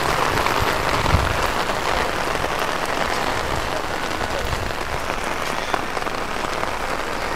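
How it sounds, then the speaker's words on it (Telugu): Heavy rain pours steadily at an outdoor Sunday village market, a dense, even hiss of drops drumming on surfaces that stays loud and constant throughout. "అయ్యో వర్షం ఇంత ఎక్కువ వస్తుంది."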